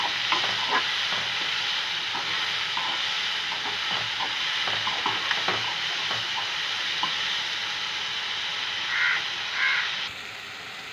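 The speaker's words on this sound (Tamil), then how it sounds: "இப்போ நல்லா கிளறி விட்டுக்கலாங்க." Vada curry masala sizzles in hot oil in a pan while a spoon stirs it, steady frying hiss with scraping clicks throughout, and crows cawing faintly outside near the end.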